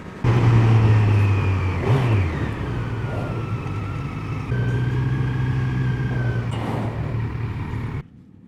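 A Kawasaki Z900 motorcycle engine revs up through its power band on a test ride, using the quick shifter. The engine note rises loudly and steadily, drops briefly at each gear change, then climbs again before cutting off near the end.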